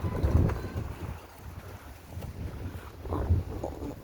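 Gusty wind buffets the microphone with low rumbling roars that rise and fall, loudest at the start, with no voices, during a racing pigeon flight.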